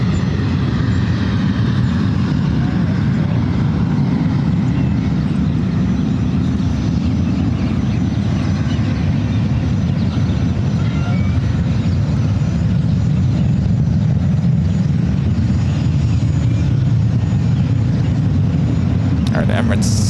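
An Emirates jet taxis out at San Francisco airport, a steady low engine rumble holding evenly throughout, with faint voices in the background.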